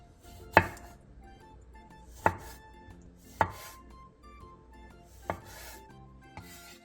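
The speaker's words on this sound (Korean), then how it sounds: "방울토마토 7개를 4등분으로 잘라주세요." Cherry tomatoes are quartered with a knife on a cutting board: five sharp, separate chops spaced about a second apart, close and clear against a quiet kitchen background.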